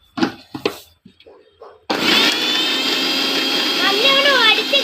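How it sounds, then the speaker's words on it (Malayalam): A mixer grinder blends mango juice, starting abruptly after a few seconds of talking and then running as a loud, steady, high-pitched motor whir that stays close and continuous to the end. "മിക്സി അടിക്കട്ടെ"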